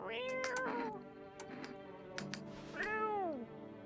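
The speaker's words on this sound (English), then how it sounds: "Hi, kitty." A cat meows in the survival horror game No I'm Not a Human: two drawn-out, rising-and-falling meows sound close and fairly soft, separated by a short pause, with no talking.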